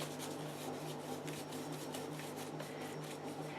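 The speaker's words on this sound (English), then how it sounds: "And I'm scrubbing." Paintbrush scrubbing yellow paint while blending colour, a faint, steady, close bristly rubbing with no talk over it.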